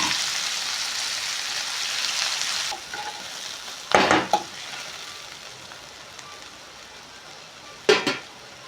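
Onions, coriander and curry leaves fry in hot oil in a pan until golden, giving a steady close broadband sizzle that eases off midway, with two sharp stirring scrapes of a utensil against the pan.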